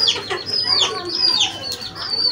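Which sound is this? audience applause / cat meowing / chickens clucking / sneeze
chickens clucking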